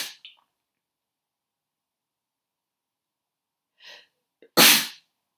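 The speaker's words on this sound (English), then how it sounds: "I'm just about to sneeze." A single sharp sneeze bursts out near the end, preceded by a brief sharp inhale and faint breathy sounds over otherwise near silence.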